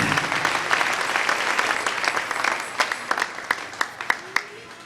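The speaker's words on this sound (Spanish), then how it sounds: "Denle un aplauso al Rey." A church congregation applauding at a service, a steady wash of clapping that thins toward the end into a few distinct, louder individual claps.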